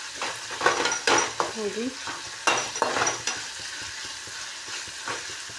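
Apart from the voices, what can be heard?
onion and tomato frying and being stirred in a pan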